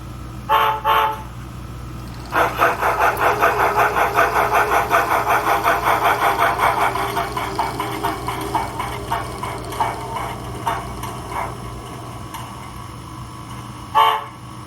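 An American OO scale Scale-Craft 0-6-0 model locomotive's DCC sound decoder gives two short horn toots, then a rhythmic chuffing that gradually slows and fades, followed by one more toot.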